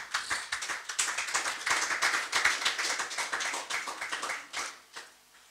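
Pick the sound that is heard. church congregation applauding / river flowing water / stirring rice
church congregation applauding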